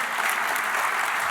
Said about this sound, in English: Don't waste my minutes on clapping.